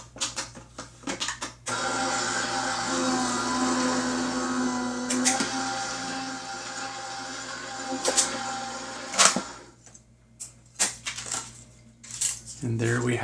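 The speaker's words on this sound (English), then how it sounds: "now we'll run this through the die cutting machine as well" A die cutting machine runs a sheet of cardstock through its rollers with a steady mechanical whir and hum, then ends with a few clicks and knocks as the paper comes out.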